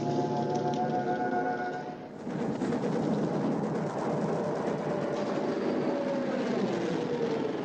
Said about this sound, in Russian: Самолеты!